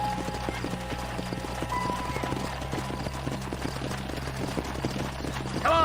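A horse gallops in Red Dead Redemption, its hooves clip-clopping in a steady, close rhythm from start to finish, with a brief whinny and faint background voices.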